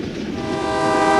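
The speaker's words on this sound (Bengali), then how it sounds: "হঠাৎই দ্রুত গতিতে একটি ট্রেন আমাকে কুঁচলে দিয়ে চলে গেল" A fast cartoon train rushes past on a railway line, its horn-like tone rising and growing louder over about a second against a rumbling rail roar.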